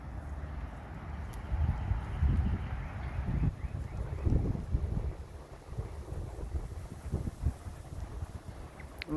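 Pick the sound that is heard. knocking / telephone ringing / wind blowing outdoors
wind blowing outdoors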